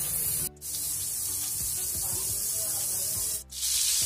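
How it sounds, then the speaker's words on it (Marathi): Butter hitting a hot kadhai for tempering dal makhani gives a steady sizzling hiss, broken by two brief pauses. "फोडणीसाठी कढई ठेवली आहे"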